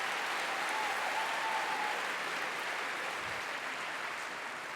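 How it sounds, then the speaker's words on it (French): Audience applause for the Lucky Luke series at the Séries Mania 2026 closing ceremony, a dense, even wash of clapping from a large crowd that stays steady and loud from start to finish. "Un peu plus fort que ça pour Lucky Luke."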